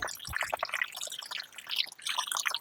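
Water runs from a household tap, a close, busy splashing and dribbling stream that continues steadily with no talk.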